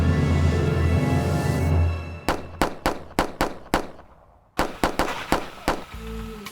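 A burst of gunfire on a bad stretch of road: about six sharp, evenly spaced shots, a brief pause, then five or six more, loud and close, alone with no talk.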